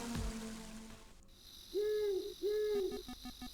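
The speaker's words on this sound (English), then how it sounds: "there was an owl apparently" Two soft hoots from an owl in the video game Mother 3, sounding after the rain has stopped. They come in a short, evenly spaced pair over a faint, steady ambient background.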